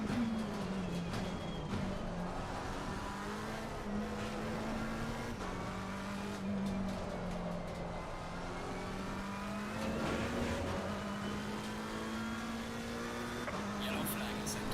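A race car engine in Assetto Corsa Competizione at Oulton Park drones and climbs as it accelerates out of a turn, steady and near, with faint tire noise and a voice talking over it at times.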